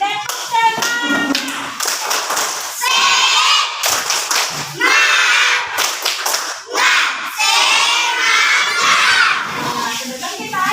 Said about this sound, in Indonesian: Sekarang kita tepuk semangat lagi. Tepuk semangat.